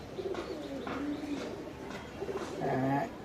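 A market-bought pigeon coos indoors, with several soft, rolling coos spaced apart over a faint background and a louder, fuller coo near the end.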